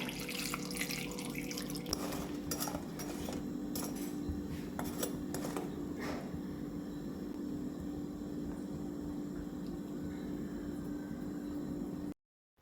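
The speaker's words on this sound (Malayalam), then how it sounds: "അതിലേക്ക് അരക്കപ്പ് വെള്ളം ചേർക്കുകയാണ്" Water splashes and trickles steadily onto jaggery in a container, with a few metallic clinks of utensils early on, then stops abruptly.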